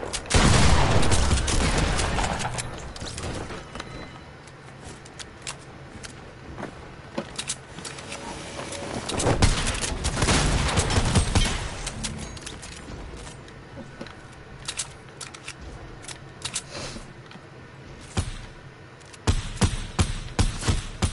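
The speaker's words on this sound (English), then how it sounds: "Someone just landed on us and shotgun everyone." Shotgun blasts and gunfire in a Fortnite match, loud bursts opening the stretch and returning in clusters near the middle and end, with mechanical clatter and rattling between them.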